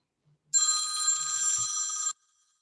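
A telephone rings once in a single sustained electronic trill lasting about a second and a half, close and clear in an otherwise quiet room, with a faint knock partway through.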